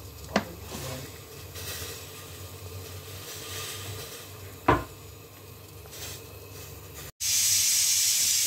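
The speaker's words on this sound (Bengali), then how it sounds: "আলু ভর্তার জন্য পেঁয়াজটা ভেজে নিচ্ছে, কাঁচামরিচ দিয়ে করবো।" Onion frying in a pan for Bengali mashed potato: a low, steady hiss with a few light clicks of utensils, then a sudden loud, bright sizzle bursts up near the end and holds.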